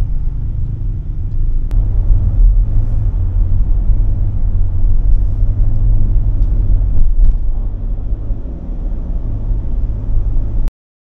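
Heavy stop-and-go traffic in Makati at night, with a steady low rumble of car engines close by that holds throughout, alone with no talk.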